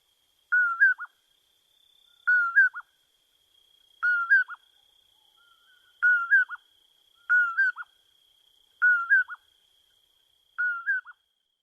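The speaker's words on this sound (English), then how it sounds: "that's the common porwell, which is the smallest member of the nightjar family" Common poorwill, the smallest nightjar, calling from a small speaker outdoors at night: seven evenly spaced two-note whistled calls about every 1.5 seconds, clear and moderately near, with a faint steady insect-like hum underneath and no talk.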